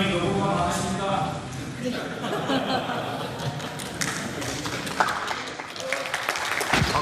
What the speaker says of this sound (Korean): 박수 치지 마세요